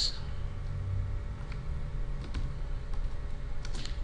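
Typing on a computer keyboard while entering PHP code, a steady scatter of faint keystroke clicks over a continuous low hum.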